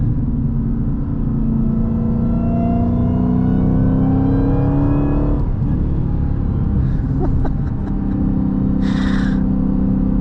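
A Dodge Challenger SRT Demon's supercharged engine revs steadily with a rising supercharger whine over a deep rumble, changing pitch midway, with a couple of brief higher chirps near the end.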